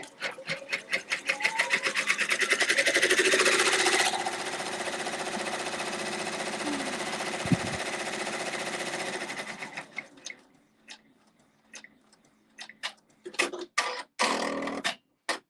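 A multi-needle embroidery machine stitches an in-the-hoop project with a loud, steady, rapid mechanical chatter for about ten seconds, then stops and restarts in short, uneven bursts.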